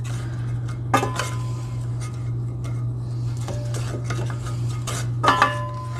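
A spoon clinks and scrapes against a pot while pasta sauce with sugar and maple syrup is stirred, a few sharp metallic knocks standing out over a steady low hum.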